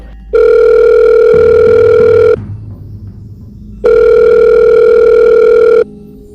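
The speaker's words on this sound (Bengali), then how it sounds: "অহনা মমিতার দেওয়া নম্বরে ফোন করলো" A telephone tone plays while a call is being placed: two long, loud, steady tones of about two seconds each, separated by a short pause.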